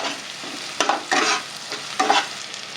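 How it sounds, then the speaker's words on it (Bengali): Chopped onions stirred in a hot pan with green chillies, a steady sizzle of frying broken by three scraping strokes of the spoon, close up and with no talking. "পেঁয়াজটাকে একটু ভালো করে নাড়াচাড়া করে নিতে হবে।"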